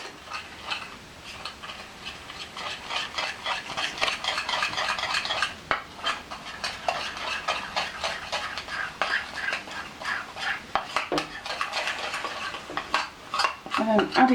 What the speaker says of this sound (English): mix this to a paste.